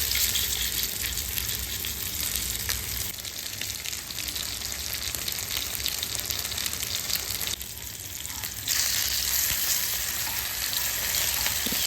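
Fish fillets frying in hot oil, with a steady, dense sizzle and crackle that runs the whole time at an even loudness and shows one brief dip partway through.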